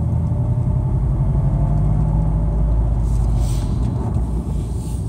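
Cabin view of a 2013 Scion FR-S accelerating, with a deep droning exhaust rumble that holds steady and then shifts tone partway through, loud and close throughout.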